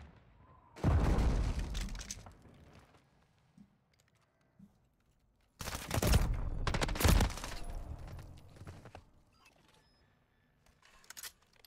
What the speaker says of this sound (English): Watch this grenade, sick.